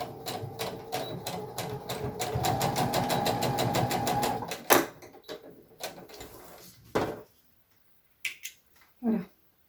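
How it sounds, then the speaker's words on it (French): A sewing machine runs a fast, steady stitching burst for several seconds along the seam allowance of a 6-month baby bloomer. It then stops, followed by a few scattered clicks and handling knocks in a quiet room. "on coud le surplus dégarni"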